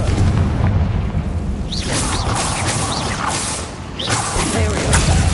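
A Confringo fire spell in Hogwarts Legacy bursts in a series of loud booming explosions with whooshing blasts, dense crackling impacts and a dip in the middle before more blasts.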